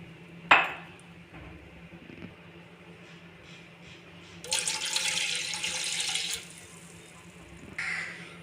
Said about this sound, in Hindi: 2 गिलास हम पानी डालेंगे इसमें।